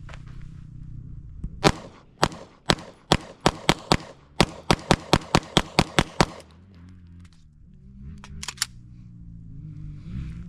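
Staccato HD pistol loaded from a standard Glock 17 magazine fires a rapid string of about fifteen loud, sharp shots in quick succession, followed by quieter handling and ambient noise outdoors.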